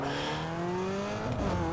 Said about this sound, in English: this thing, it burns out even into 6th gear